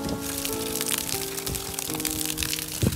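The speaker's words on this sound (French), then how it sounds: "Ah oui, c'est de la grêle en fait." Hail pattering on a construction site during a concrete pour, a fine continuous crackle of hailstones hitting surfaces with scattered sharper impacts, steady and moderately close, with a few tonal background hums.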